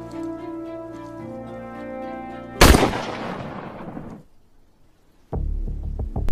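Pistol gunshots in a film scene: after a low droning score, one sharp loud shot with a long decaying echo, a brief hush, then another abrupt blast as the music resumes.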